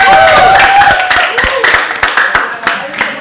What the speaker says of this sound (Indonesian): Tepuk tangan dong buat PPS.